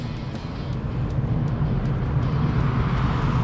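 A VW Polo GTI's engine pulls under throttle from inside the car, a steady low rumble with road noise rising gradually over a few seconds.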